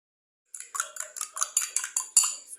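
Spoon scraping and clinking against a bowl as flour and sugar are stirred together, about ten quick rhythmic strokes, close and fairly quiet, with no talking.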